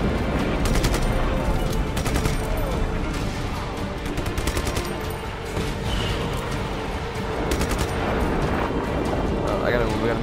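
Rapid bursts of gunfire and sustained automatic shooting fill a chaotic firefight in the video game Just Cause 3, loud and dense throughout, with someone talking over the shots at times.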